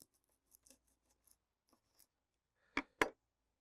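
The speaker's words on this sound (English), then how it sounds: "Let me just cut this in half." Plant corm cut in half with a blade, a few faint crisp snips followed by two short, louder crunching cuts close by in a quiet garden setting.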